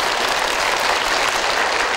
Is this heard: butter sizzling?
no